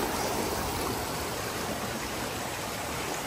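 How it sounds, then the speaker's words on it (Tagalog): Strong river water rushes steadily at a camping spot in Quezon, a loud, continuous broadband roar close by with no talk. "Doon, ang lakas ng tubig."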